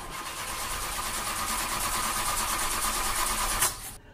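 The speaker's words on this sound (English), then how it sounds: "When you hear the engine start," A car engine, turned over with the key, cranks and catches, then runs in a steady mid-pitched hum for several seconds before cutting off abruptly, heard close with no speech.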